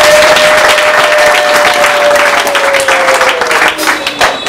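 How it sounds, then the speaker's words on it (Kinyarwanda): Sustained audience applause at an event in Rwanda honouring a pastor, steady and loud throughout, with a constant sustained tone running underneath. "mbasaba kuntiza ibiganza tukiha amashyi"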